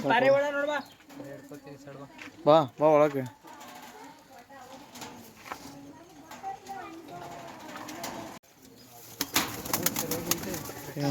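Domestic pigeons cooing softly in a village coop alongside country chickens and chicks, brief murmuring coos close by while a person talks over them.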